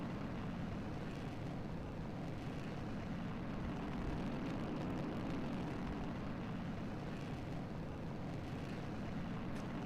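A sounding rocket engine fires in Kerbal Space Program with the Realism Overhaul mod, giving a dense, unbroken roar that holds steady and loud for the whole stretch, with no talking over it.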